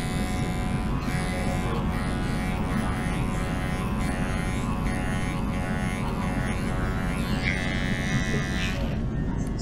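Andis Masters hair clippers fitted with a magnetic guard buzz steadily and closely while cutting hair during a taper fade at a barbershop, a continuous motor drone with shifting pitch as the blade moves through the hair.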